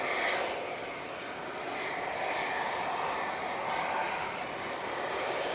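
An Emirates Airbus A380 roars through a go-around, its jet engines producing a loud, continuous broadband rush that holds steady with slight swells throughout.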